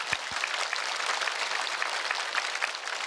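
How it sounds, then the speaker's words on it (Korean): A church congregation at a Friday prayer meeting claps together in sustained, dense applause, steady and fairly loud throughout without pauses, filling the room with a continuous crackle of many hands. "우리 하나님께 한번 박수 한번 돌려볼까요?"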